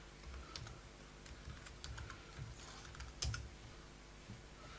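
Keys clack on a computer keyboard as a root or superuser password is typed on Ubuntu 13.04, a quiet, irregular run of soft taps with one sharper keystroke near the end and no talking.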